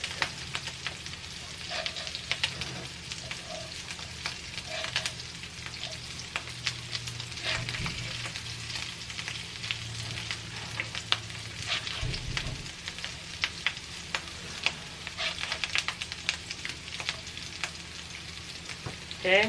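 Falafel sizzling and crackling steadily in hot oil at close range, a continuous frying hiss dotted with sharp pops, with a brief low clatter of turning partway through.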